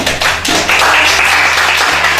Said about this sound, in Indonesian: Oke, tepuk tangan dong, tangan dulu.